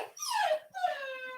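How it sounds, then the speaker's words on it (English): A twelve-week-old puppy whimpers and whines indoors in two drawn-out, falling cries, close and clear with no talk over them. "That's 12-week-old puppy that."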